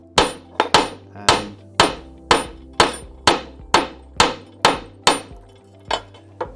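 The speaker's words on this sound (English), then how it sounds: "once you've got your hammer texture on the head, then again using the metal plate, and you don't have to hammer really hard" A hammer striking metal on a steel plate to texture it, about a dozen evenly spaced sharp metallic blows, close and ringing briefly, with no talking.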